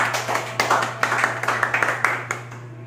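A small audience at a Catholic apologetics talk on sacred images gives brief, sparse applause, with individual claps and short bursts spaced out over a few seconds.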